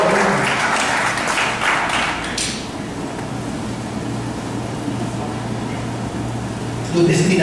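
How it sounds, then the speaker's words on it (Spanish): Church congregation clapping in a short burst that fades after a couple of seconds, leaving low room hum, with a voice returning at the end. "denle un aplauso al Señor, por favor"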